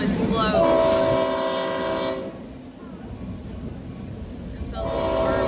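Great Smoky Mountains Railroad train pulling passenger cars, heard from aboard with a loud horn blast at the start, then steady rumbling and rail noise, and the horn returns near the end.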